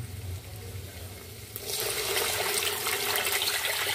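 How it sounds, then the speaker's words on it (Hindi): Water poured from a jug into a pan of cooked tomatoes with spices, a quiet start giving way to a steady splashing, gurgling pour that continues to the end. "अब इसमें मैं 1 जग पानी का ऐड करूंगी"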